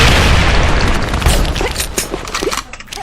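A grenade goes off in the online shooter Sudden Attack, a loud, close, deep boom that trails into rumbling debris and scattered pops as the blast decays.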